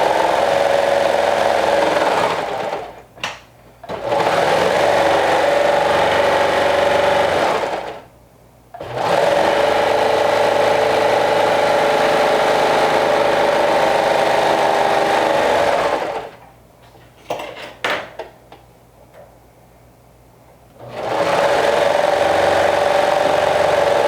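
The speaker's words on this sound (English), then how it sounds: "now you can go ahead and stitch all around with your serger" A serger runs in long steady bursts as it stitches a fabric seam for a rainbow dress, a close, even mechanical whir that stops and restarts several times with short pauses between runs.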